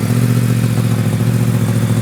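A loud, close Yamaha R1M superbike engine idles steadily with a deep, throaty exhaust rumble and mechanical clatter, holding an even, continuous pulse.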